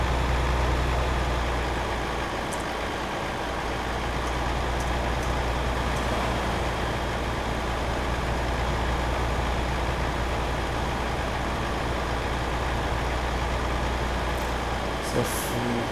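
Virtual truck engine from Euro Truck Simulator 2 drones as a steady, continuous low hum with a faint broadband hiss, constant in level throughout, no talk audible over it.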